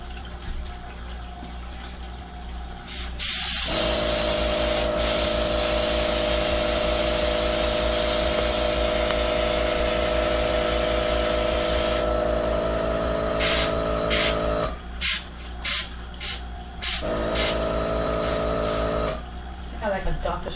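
An airbrush sprays color onto cake pops in a steady close hiss that runs for several seconds, pauses, then returns in short bursts, with a low constant compressor hum underneath.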